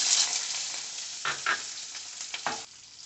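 Onions sizzle and fry in a hot pan for radish chutney, a continuous close crackle with a few louder bursts as they are stirred, no voices.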